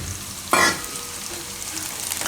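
Carrots and green beans go into a hot pan for paneer jalfrezi: one loud scraping toss and hiss, then a quieter constant sizzle with faint clinks, close and without speech.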